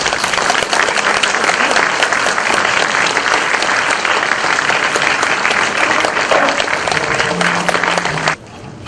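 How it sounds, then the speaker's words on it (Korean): Audience applause at an education superintendent candidates' policy debate, a dense sustained clapping from a large crowd for about eight seconds before cutting off sharply near the end. "박수로 안내해 주시기 바라겠습니다."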